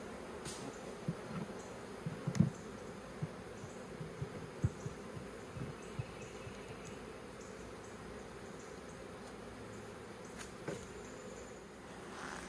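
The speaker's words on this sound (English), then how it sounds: "It's a lot of bees." A large swarm of bees hums in a continuous low buzz, steady and close, with occasional soft knocks and no voices.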